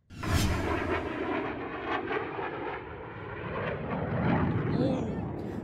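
An Indian fighter jet roars loudly at the Dubai Air Show, a sustained, rumbling engine blast that starts abruptly and stays strong for about five seconds, nearby and with no voices over it.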